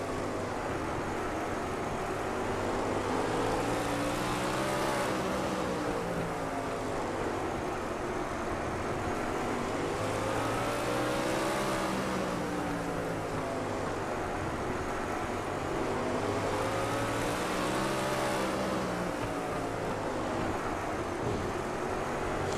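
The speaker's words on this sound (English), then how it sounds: "Get you a little bit of the sound from inside these race cars." A race car engine drones from on board during a Little 500 race, rising and falling in slow repeated sweeps as the car laps at about half throttle, loud and continuous.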